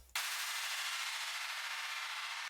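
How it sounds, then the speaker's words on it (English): A synthesized downlifter effect from minimal bass music production: a dense wash of bright noise that starts abruptly, holds loud and steady for about two and a half seconds, then cuts off sharply. "we just added a lot of downlifters like this."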